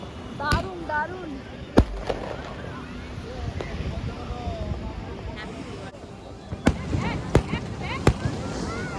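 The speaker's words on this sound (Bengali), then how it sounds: "আমরা সি বিচে দারুণভাবে আতশবাজি দর্শন উপভোগ করলাম।" Fireworks burst over the beach at Puri during Kali Puja: sharp bangs and crackles, some distant and some close, come at irregular intervals over crowd murmur and wind.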